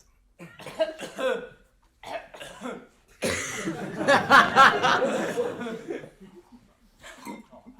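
Actors in a stage comedy cough theatrically, first a few scattered coughs, then a long loud fit of overlapping hacking coughs and throat sounds that trails off into softer coughing.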